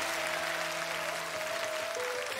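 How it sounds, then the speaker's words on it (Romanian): Brief applause from a studio audience at a Romanian comedy sketch, a soft wash of clapping under faint sustained musical tones. "Aplauze, frumos!"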